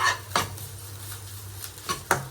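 A spoon scrapes and knocks against a pot while an iftar dish is mixed, with a few sharp clinks spread across a quiet kitchen background and no talking.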